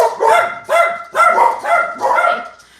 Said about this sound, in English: there's no stopping the puppies on a live stream